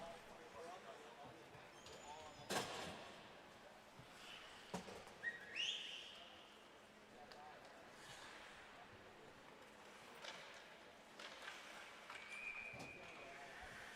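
A referee's whistle sounds briefly at a college ice hockey game between Rider University and Penn State, a short faint shrill over rink ambience and a commentator's voice.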